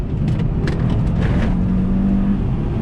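A tuned Audi RS3 with Stage 1+ ECU and Stage 2 transmission software accelerates hard, its engine droning loudly and steadily with rising pitch, heard from inside the car.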